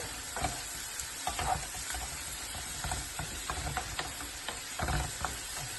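Onions fry in a pan for an octopus stew, a steady close sizzle and hiss with occasional stirring scrapes and pops, no voices.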